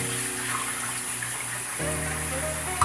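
Cold water running and splashing steadily over rice in a bowl in a home kitchen, a close continuous gush that shifts slightly in tone partway through.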